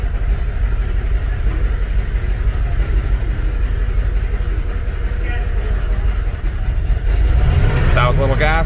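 A 1996 Jeep Grand Cherokee engine with warm-start and idle trouble runs steadily up close, then rises briefly when given a little throttle near the end.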